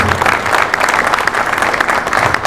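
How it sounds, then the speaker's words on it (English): Loud, steady audience applause after a school Julius Caesar play Q&A, dense clapping from a full room with crowd noise throughout. "Another round of applause for that courage and that determination"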